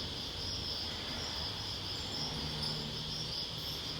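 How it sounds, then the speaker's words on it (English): Many crickets chirp in a continuous, high-pitched trill, dense and steady throughout with no other sounds. "Loads of crickets."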